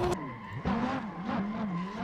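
Tires on a modified drift car screech and slide in the Assetto Corsa racing game, a continuous wavering squeal with engine drone beneath, rising and falling as the car holds its slide.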